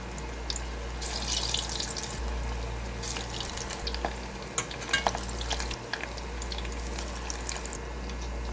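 Cassava balls deep frying in oil give off a steady bubbling sizzle with scattered crackles and pops over a low background hum, close by and with no talking.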